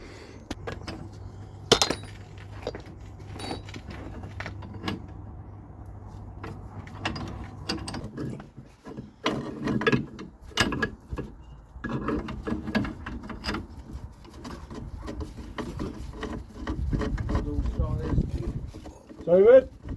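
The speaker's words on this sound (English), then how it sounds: "let's compress these springs up and try and get the rest off" Spring compressors are cranked onto Vauxhall Viva suspension springs in a home driveway. Irregular ratcheting clicks, metallic knocks and scrapes come in bursts over a low background hum, with some people talking intermittently.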